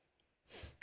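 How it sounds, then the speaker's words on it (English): A single short sneeze bursts out after a quiet moment, close and fairly soft. "as soon as I talk about my hay fever symptoms, I sneeze"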